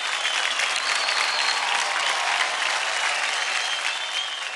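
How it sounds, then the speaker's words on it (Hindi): Studio audience on a TV dance competition show breaks into loud, sustained applause, a dense steady wash of clapping that holds at full strength throughout and eases only slightly at the end. "क्या बात है, जोरदार ताली हो जाए पियाली के लिए।"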